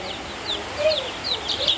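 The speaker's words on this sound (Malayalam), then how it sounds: "ഇവരൊക്കെ ആദ്യം വിരിഞ്ഞ കുഞ്ഞുങ്ങളാട്ടോ" Several newly hatched chicks cheep in high, thin peeps, overlapping and close by, with a soft background hum.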